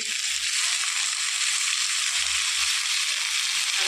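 Washed fenugreek greens go into a pan of fried eggplant, setting off a steady, close hiss of frying that runs unbroken, with a few soft low thumps underneath.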